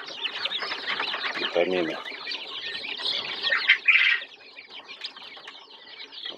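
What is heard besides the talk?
turkey poults eating grass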